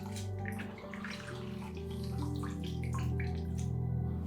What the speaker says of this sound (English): I then wash that all away using fresh, clean, warm water.